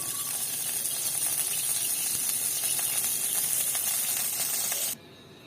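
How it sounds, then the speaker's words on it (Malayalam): Coconut oil sizzling in a hot pan, a steady loud hiss with crackling texture that holds evenly and then cuts off abruptly near the end. "ചട്ടി ചൂടായിട്ട് നമുക്ക് കുറച്ച് വെളിച്ചെണ്ണ ഒഴിച്ചു കൊടുക്കാം"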